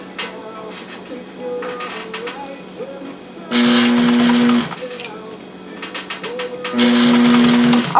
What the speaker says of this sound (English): And then you sew it on.